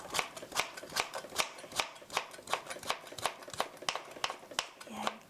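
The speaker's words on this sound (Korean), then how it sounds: "얇게 슬라이스 해서 이렇게 얇게 채 썰어서" A knife thinly slicing and julienning carrot on a cutting board, a quick steady run of crisp chops, about two or three per second, close and distinct.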